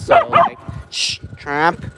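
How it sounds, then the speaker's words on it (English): A dog barks at another passing dog, two loud yips close by followed by a longer whining bark, while a person talks and hushes it. "He's just barking at another dog."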